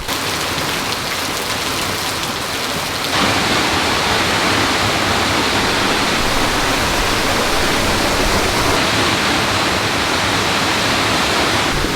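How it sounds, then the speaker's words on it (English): Waterfall pouring over undercut rock on a rugged Watagans bush track, a steady loud broadband rush of falling water that swells slightly after a few seconds and continues unbroken. "you got a waterfall flowing down it, which you can walk underneath"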